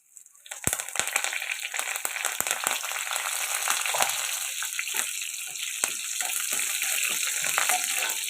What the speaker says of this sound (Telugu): ఇది ఇలా ఫ్రై అవుతున్నాయి కదండి అందులోకి కరివేపాకు వేస్తుంది